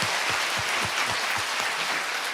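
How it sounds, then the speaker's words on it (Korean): Congregation applauding during a church testimony talk, a short dense wash of clapping that stays steady and loud throughout, with no voices over it. "주님께 영광의 박수 올립니다."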